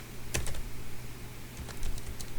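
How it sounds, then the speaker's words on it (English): Dates being typed on a computer keyboard: a few quick, sharp key clicks in short bursts, close and clear over a low background hum. "So I'll go ahead and I'll type the date 3 times."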